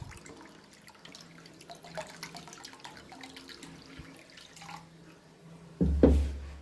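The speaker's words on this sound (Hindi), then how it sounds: "जितना हमने चीनी लिया है उतना ही हमें पानी डालना है।" Water poured into a wok on the stove for sugar syrup for gulab jamun, faint trickling and dripping for several seconds, then a brief louder splash near the end.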